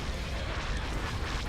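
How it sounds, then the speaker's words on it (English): Laser cannon fire and explosions in a Star Wars space strategy game, heard as a steady, dense wash of booming blasts and rumbling bursts that fills the whole moment without pause and without talk. "Open fire on those laser cannons."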